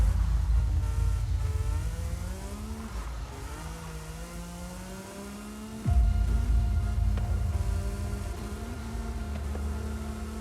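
Race car engine in Forza Horizon 5 lapping a Silverstone-like circuit, a steady loud drone whose pitch climbs and dips through gear changes, with a sharp shift near the middle.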